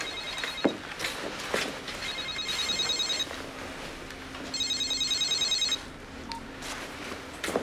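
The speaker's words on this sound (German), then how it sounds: "Mein Telefon. Wollen Sie nicht rangehen?" Telephone ringing in bursts of electronic trilling, three rings with pauses between, fairly close in a quiet room with faint movement sounds.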